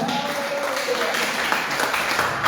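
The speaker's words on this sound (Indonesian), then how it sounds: "Memberikan tepuk tangan bagi Tuhan." Church congregation clapping in applause during an Indonesian-language sermon, a continuous dense wash of hand claps with a voice faintly under it.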